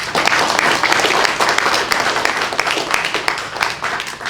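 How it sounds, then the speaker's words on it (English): A loud, steady round of applause from an audience for a police chief at a city press briefing, continuous dense clapping throughout with a faint voice or two underneath. "Please give him a round of applause"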